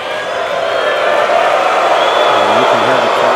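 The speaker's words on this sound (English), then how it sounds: "you can hear the crowd. They're getting on Tsitsipas for any delay now" A tennis crowd at a fifth-set US Open first-round match between Murray and Tsitsipas gives a steady, loud murmur of voices, with brief whoops and calls rising over the continuous noise.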